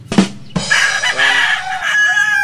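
A rooster from a breeding gamefowl bloodline crows loudly and close in one long, drawn-out call, preceded by a couple of short sharp clucks.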